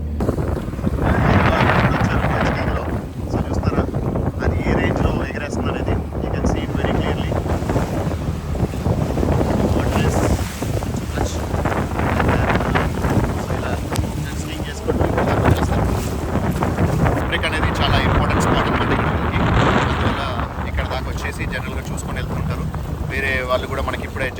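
A jet ski ride out at sea off Turks and Caicos gives a steady engine roar mixed with heavy wind buffeting and splashing water, loud and close throughout, with people talking over it.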